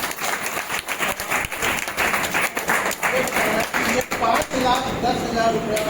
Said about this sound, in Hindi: मैडम के लिए जोरदार ताली बजाओ।